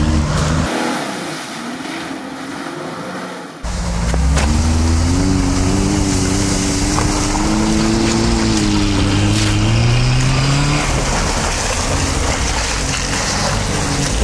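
A car revs and strains hard on a slope with its front wheels on ice and rear wheels below, the engine note climbing and wavering loudly for most of the stretch after a brief quieter start.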